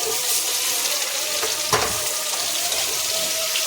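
Potatoes and carrots go into a pan of frying onions and get stirred: a dense, loud sizzle runs throughout, with one heavier scrape or clatter near the middle.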